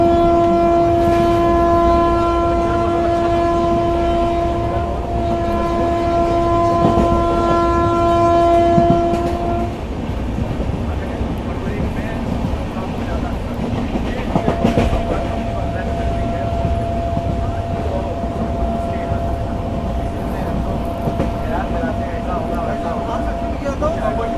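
A train runs at high speed through Safedabad railway station in fog and cold, with a loud sustained horn blast over steady rumbling and rail noise that continues after the horn stops.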